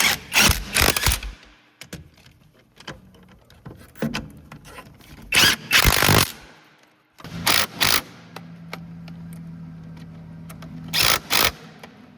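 A hand ratchet snugging down the 17mm brake caliper anchor bolts on a 2003-2007 Honda Accord, rapid clicking bursts in several separate runs with quieter pauses and a low hum between them, close to the microphone.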